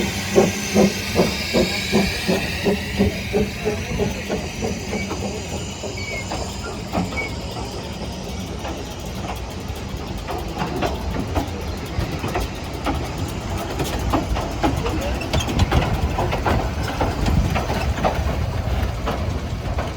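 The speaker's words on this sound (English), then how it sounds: "we went outside to see Prince moving along a short section of track that was laid just for the event" The heritage steam locomotive Prince runs along a short length of temporary track at a railway gathering in Derby, giving a rapid chuffing exhaust beat, steady hiss and clanking, loud and close, with no speech.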